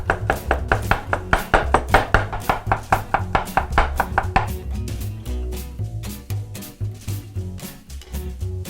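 A knife chops four garlic cloves finely on a board for homemade kebabs. Rapid, sharp, evenly spaced strikes ring out close and loud, then continue a little softer and more sparse.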